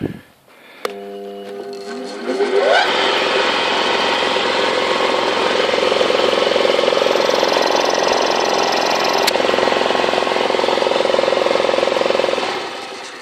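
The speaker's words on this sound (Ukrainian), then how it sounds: "розпочну е, відео з запуску е, компресора" An air compressor clicks, whines as it spins up, then runs at a loud, steady drone for about ten seconds before cutting off.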